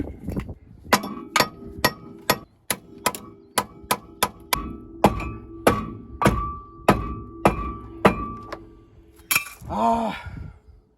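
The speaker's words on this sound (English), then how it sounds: "We just need to hammer this lower ball joint out" Repeated sharp metallic strikes of an adjustable wrench hammering a car's lower ball joint out during Jaguar wheel bearing repair, about twenty ringing blows in an irregular rhythm, close and loud, ending in a clattering scrape.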